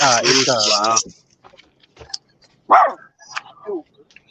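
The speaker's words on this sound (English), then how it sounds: "Doggo?" A dog barks, first in a long loud harmonic burst, then a few sharper yips and whimpers scattered through the quiet that follows.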